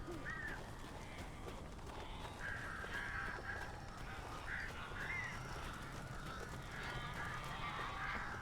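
Crows caw repeatedly inside the Alan Wake video game, several harsh calls scattered across a steady ambient background of wind and rustle, moderately distant and fairly faint.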